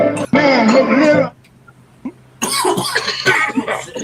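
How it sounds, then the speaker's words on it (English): A person's cough, a short loud burst of coughing set between stretches of close talking. "well, I coughed for you."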